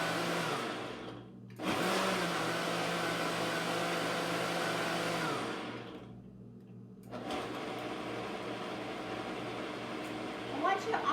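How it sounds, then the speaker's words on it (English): A blender whirs through a green smoothie with ice chunks, a loud steady motor roar broken by a brief pause, then resuming with clunking and rattling of ice near the end. "I want you to listen to the sound of that ice when it clunks around"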